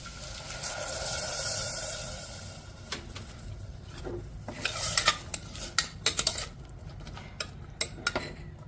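Milk stirred into carrots fried in ghee for gajar halwa, a steady hiss of cooking under scraping and clinking of a spoon against the pot, the knocks growing more frequent toward the end.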